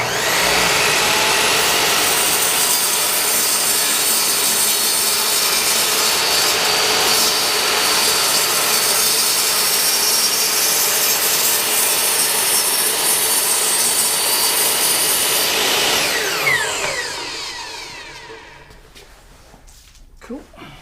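A power saw cuts a wooden board for bench shelves, a loud, sustained, broadband whine and rasp running for about sixteen seconds before spinning down to quiet with a small knock.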